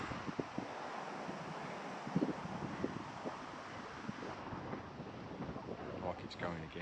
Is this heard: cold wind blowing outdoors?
yes